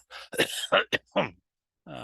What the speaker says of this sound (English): Doggone cough, sorry.